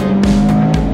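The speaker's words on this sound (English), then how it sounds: "All induction noise." Intake roar of a 2024 Mazda MX-5 sports car under hard acceleration, a loud, close, steady engine drone that surges in brief pulses as the revs shift.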